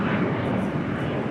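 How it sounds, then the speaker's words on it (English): A Dassault Falcon 900 EX business jet departs Los Angeles International Airport. Its engine roar is a broad, steady rush, fairly loud and unbroken across a short stretch. "It was a Dassault Falcon 900 EX departing to St. Louis."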